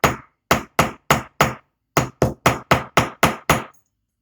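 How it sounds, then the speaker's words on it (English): A ball peen hammer strikes a rivet on leather work, twelve sharp metallic taps in two quick, evenly spaced bursts, loud and close with nothing else heard. "And I use ball peen hammer."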